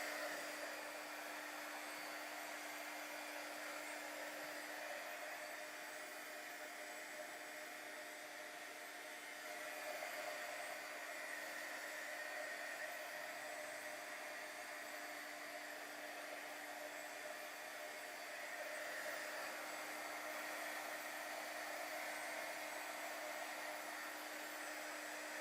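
A hair dryer blows steadily on a drying mixed media artwork, a constant faint whirring hiss with a steady hum that runs unbroken throughout.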